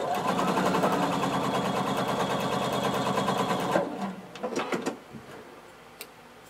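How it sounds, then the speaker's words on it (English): A sewing machine stitches a blazer seam half an inch from the fabric edge in one loud, steady, close run for about four seconds, then stops, followed by faint handling clicks. "we're going to sew about a half inch away from the edge of the fabric here"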